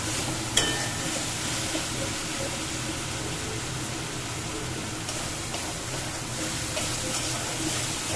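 A paste of ginger, garlic, onion, chili powder, coriander powder and black pepper fries in oil in a pan, giving a steady, close sizzle throughout with no talking.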